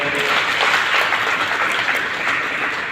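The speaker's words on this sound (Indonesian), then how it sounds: "Tepuk tangan buat beliau" A crowd at a Hindu organisation's installation ceremony in Tabanan, Bali, claps in sustained, even applause for an honoured guest, a dense wash of many hands with no break.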